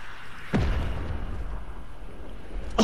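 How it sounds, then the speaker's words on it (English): Grenade blasts in Fortnite: a heavy boom near the start and another at the very end, each with a low rumbling tail over steady background game noise, with no talking. "I'm flushing them with grenades now"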